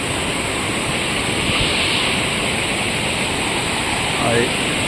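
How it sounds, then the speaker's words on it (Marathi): Floodwater rushes through a flooded stream beside paddy fields in Konkan in a loud, continuous roar, a dense steady wash of noise with a voice faintly audible beneath it. "खूप जोरदार पाणी आलेलं आहे"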